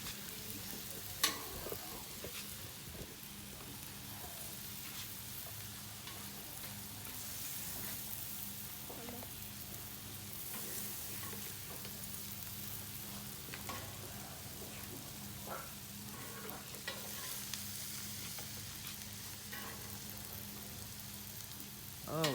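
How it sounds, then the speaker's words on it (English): Steaks and onions sizzle on an outdoor grill, a steady faint hiss and crackle with a low hum beneath, continuous and without talk. "Now the steaks are going on."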